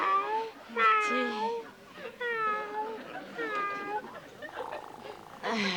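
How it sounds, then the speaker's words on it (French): A cat meows repeatedly at close range in several drawn-out, rising and falling calls, with short pauses between them. "Il est gentil, le chat."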